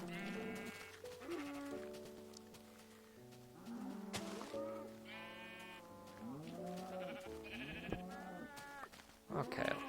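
Sheep in the Minecraft video game bleat again and again across several seconds, wavering calls coming one after another over a steady background of game music.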